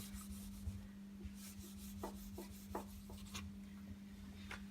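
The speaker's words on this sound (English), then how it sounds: "Just give her a good scuff with a gray Scotch-Brite." Quiet abrasive rubbing of a gray Scotch-Brite pad against a guitar body's hard finish, a series of short scuffing strokes over a faint steady hum.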